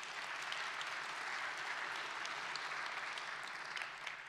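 Summit audience applause fills the whole stretch as dense, steady clapping from a large crowd at moderate distance, with no speech over it.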